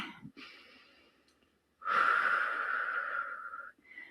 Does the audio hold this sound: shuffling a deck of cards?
no